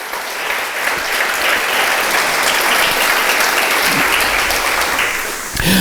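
Sustained applause from a church congregation fills the space, dense and steady clapping that swells evenly and holds for several seconds before trailing off.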